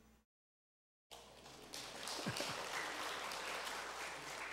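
Congregation applauding during a Sunday worship service in a church, the clapping starting abruptly after a brief gap of silence and continuing as a steady, fairly distant wash of many hands.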